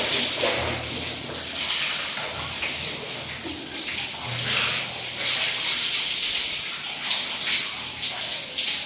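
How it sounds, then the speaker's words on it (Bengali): Water splashing and running steadily as a person bathes and washes the body with shampoo, a continuous broadband wash of spray and pouring close by with no talk over it. "এখন ভালো করে স্নান করে নিচ্ছি গা ধুয়ে দিয়ে"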